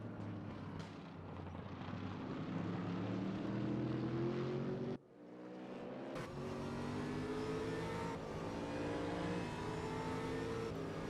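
A race car engine from a sim racing video game at the Shanghai circuit drones loudly and steadily with rising pitch sweeps, then drops out briefly and returns, with no talk over it.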